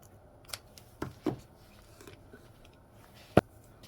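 Scissors snip the ends of blue ribbon in a few sharp, quiet cuts spaced out over several seconds, with one louder final snip, during card-making crafting.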